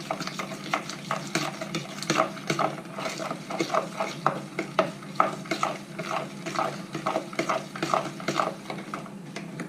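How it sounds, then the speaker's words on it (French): Egg yolks and sugar being beaten together in a bowl for a marble chocolate cake, with a steady rhythm of quick scraping, clicking whisk strokes, close up and with no talking. "je fais blanchir, je mélange bien le jaune, les œufs"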